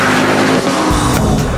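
A 2009 Ford Focus RS accelerates hard on a test drive, its engine roaring loud and close as it climbs through the revs with no speech over it.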